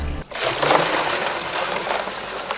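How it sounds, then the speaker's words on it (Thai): Water poured from a pot onto ice makes a steady splashing, trickling wash that begins abruptly after a short pause and continues at moderate loudness without breaks. "รอน้ำหม้อที่สองเต็มอุณหภูมิก่อนเทน้ำหม้อที่สองลงไปนะครับ"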